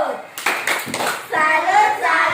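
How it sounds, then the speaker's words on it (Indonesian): A school class of children does a short rhythmic 'tepuk salut' clapping cheer, with a few quick clap bursts followed by a chanted, voice-heavy ending, close and fairly loud. "Kasih lagi tepuk salut."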